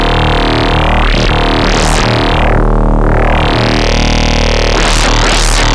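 A loud, sustained phase distortion oscillator tone from a WMD PDO modular synth module, its timbre sweeping and morphing continuously, with bright harmonics rising and falling in repeated swooping waves over a steady pitch.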